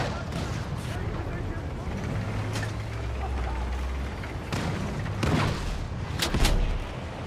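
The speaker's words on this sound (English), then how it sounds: "Exciting tank warfare going on here." Gunfire and artillery blasts from a tank battle in the Battlefield 6 campaign, a video game, roll through a dense, continuous battle din with several sharper bursts and a heavier boom near the end, under occasional talk.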